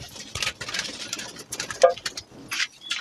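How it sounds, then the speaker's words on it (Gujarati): Jiriya breed pigeons in a loft give soft, intermittent coos, mixed with scattered fluttering and shuffling bursts close by, with no one talking. "મિત્રો, આ છે કંઈક અમારા કબૂતર."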